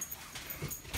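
A small dog whimpers and yips softly near the floor at someone's feet, a few faint high-pitched whines in a brief moment.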